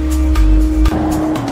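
Cars pass by in congested road traffic, heard from a vehicle in the jam: close, quick whooshes and a loud low engine drone that drops off abruptly partway through.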